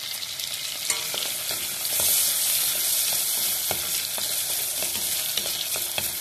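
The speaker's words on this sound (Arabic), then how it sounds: "نقلوهم مليح." Chopped onions and green onion fry in a pan with a constant crackling sizzle, joined by scattered sharp clicks and scrapes of stirring, close and moderately loud, without talk.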